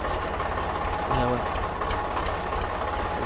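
Tractor engine idling as the driver shifts into gear, a steady low mechanical rumble running throughout with a brief grinding clunk near the middle, while someone talks over it.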